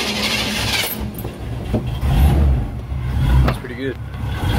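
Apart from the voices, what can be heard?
truck engine cranking up and running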